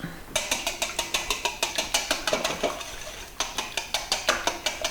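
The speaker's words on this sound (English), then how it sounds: "we're gonna whisk these babies up" Farm eggs seasoned with salt and pepper are whisked in a bowl, the whisk clicking against the sides in a quick, steady rhythm that pauses briefly midway before resuming, close and fairly loud with no talking.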